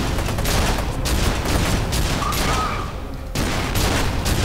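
Sustained bursts of gunfire from the video game F.E.A.R. 2 form a dense, loud fusillade that briefly drops off before resuming, with a player's voice faintly underneath.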